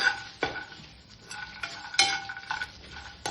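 Peanuts, red chillies, bay leaves and whole spices dry roasting in a pan for a spicy clay-pot mutton masala, with a utensil scraping and stirring and occasional sharp clinks against the metal, no voices.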